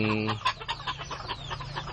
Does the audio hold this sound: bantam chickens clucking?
yes